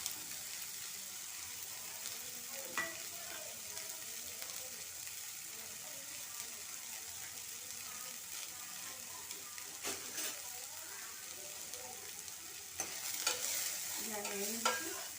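Ingredients fry in a pan with a soft continuous sizzle as a utensil stirs and scrapes now and then, growing a little louder and busier toward the end.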